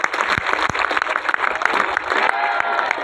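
A large crowd at a public event claps hard to welcome Chief Minister Manohar Lal, making a loud, close, dense burst of applause throughout.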